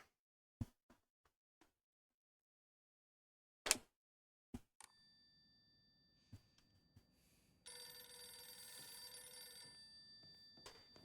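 A telephone rings in a video game, an electronic bell tone sounding in a sustained burst after a few sparse clicks and taps in an otherwise quiet scene.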